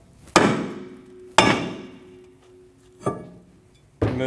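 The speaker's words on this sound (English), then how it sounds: "I'm going to use a soft face hammer to release my rotor from the hub." Four separate sharp strikes of a soft face hammer on a Volkswagen Tiguan rear brake rotor, each a ringing metallic knock spaced about a second apart and fading quickly.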